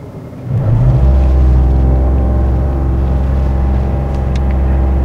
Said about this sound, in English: We can all hear the loud sounds from the engine, but it's normal.